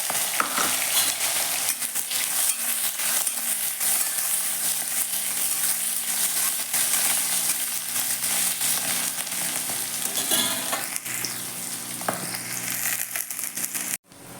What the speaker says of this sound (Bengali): পেঁয়াজ এটা ভাজা ভাজা হয়ে গেছে